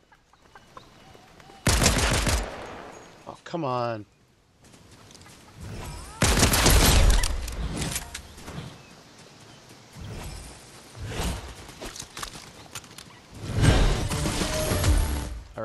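Video game gunfire erupts in several loud, sharp bursts separated by quieter gaps, mixed with clucking chickens and a player's brief remark.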